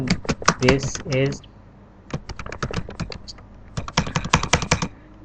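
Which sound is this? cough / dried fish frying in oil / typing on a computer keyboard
typing on a computer keyboard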